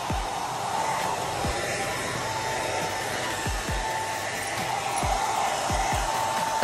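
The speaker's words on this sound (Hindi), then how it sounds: "अब डेजी और मैक्स के लगेगा हेयर ड्रायर" A hair dryer runs steadily and loudly while drying pet dogs at home, its continuous whoosh filling the whole stretch, with a few faint low thumps underneath.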